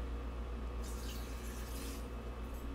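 A small splash of water, two or three tablespoons, poured into a pot of Guyanese chicken stew with garlic, a brief soft pour over a steady low kitchen hum, no talking.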